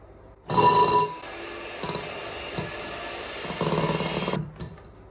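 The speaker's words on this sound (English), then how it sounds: "I now need to whisk this with my little whisk" A small whisk working batter in a greased baking tin makes a steady whirring, buzzing churn that lasts about four seconds, loud at the start and then easing slightly before it stops.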